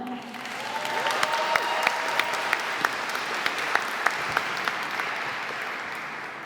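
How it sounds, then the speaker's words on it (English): An audience at a Puerto Rican flag raising ceremony applauds steadily for over six seconds, a dense, even wash of clapping with a few sharper claps standing out near the listener. "Please help me give it up a round of applause to Leticia Maldonado."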